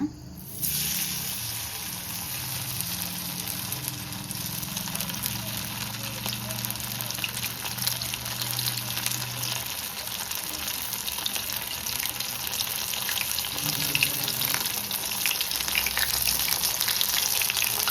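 Paneer pieces shallow fry in a pan of oil, a steady, close crackling sizzle that runs unbroken for the whole stretch, with faint background sounds and no clear talk.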